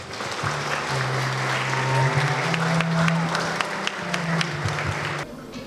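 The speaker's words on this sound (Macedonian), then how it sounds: "Вашиот аплауз и насмевки ни значат многу" A school audience claps steadily after a puppet show, a dense, loud wash of applause lasting several seconds before cutting off abruptly.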